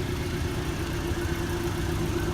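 A Porsche 718 Boxster S with a 2.5-liter turbocharged engine idles close by, giving a steady, even low rumble with no revving and no voices.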